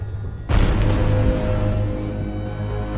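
Gunfire in a Hollywood sci-fi action scene opens with a sudden heavy boom, followed by a long rumbling decay and a second sharp burst, loud and close with no talk.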